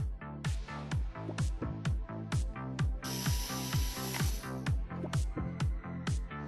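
A screw under the plastic A-pillar trim cover of a Mercedes W212 being unscrewed with a ratchet, producing an even run of close, sharp clicking strokes throughout.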